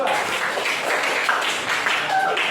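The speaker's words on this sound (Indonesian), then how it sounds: "Tepuk tangan untuk kelompok 2." Classroom applause for a student group in a Christian religious education lesson, steady broadband clapping from many hands that runs throughout, with faint voices underneath.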